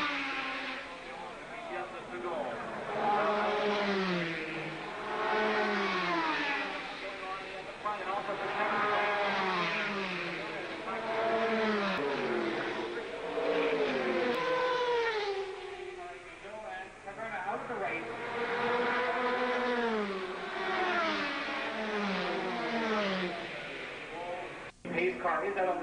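World Sportscar Championship race cars at the 1990 Montreal circuit, engines rising and falling through gear changes in a continuous loud roar as several cars pass, with a commentator talking over them.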